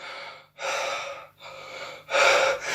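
A human voice imitating the heavy, laboured breathing of someone with asthma: three loud, drawn-out rasping breaths close to the microphone, separated by brief pauses.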